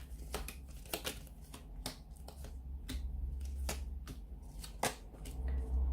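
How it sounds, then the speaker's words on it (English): Tarot cards are shuffled by hand, giving a series of sharp riffling slaps and flicks at an irregular rhythm, close and fairly quiet, with no talk. "So we'll give the cards a shuffle."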